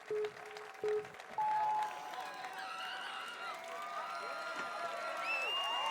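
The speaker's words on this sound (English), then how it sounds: "Lance's wife, Heather, surrounded by other members of the Beekus family, cheering the Cowboy on" A crowd at the American Ninja Warrior national finals cheers, whoops and applauds, a broad swelling roar with shouts and whistles rising over several seconds, preceded by brief short tones.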